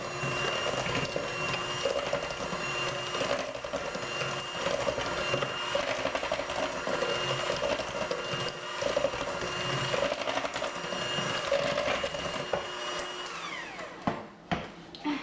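Milk being mixed into chocolate muffin batter, heard as a steady mechanical whirring with a faint rattling texture that runs for most of the time, then stops and gives way to a few knocks and clatters at the end.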